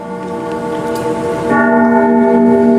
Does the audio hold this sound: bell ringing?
yes